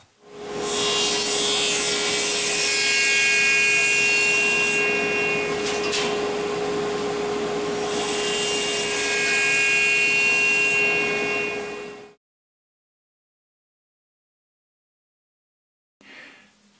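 A small wooden block is sawn by hand to shorten it for a little tripod, with long, loud, steady rasping strokes running close for about twelve seconds before stopping, then a brief scrape.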